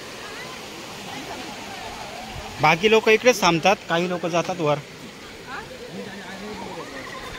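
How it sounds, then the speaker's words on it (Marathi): Water from the Pahine Necklace Waterfall near Trimbakeshwar rushes in a steady, moderately loud wash throughout, with people talking over it in the middle. "हे बघा ना तिथं पाणी इथं इथं धबधब्याचं पाणी सर्व इकडे येतं"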